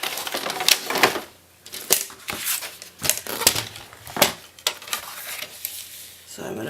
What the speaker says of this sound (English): So I'm going to put this in my trimmer.